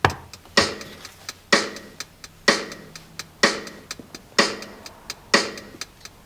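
A sparse, steady electronic beat repeats alone: a sharp crisp hit every three quarters of a second or so, with lighter ticks between.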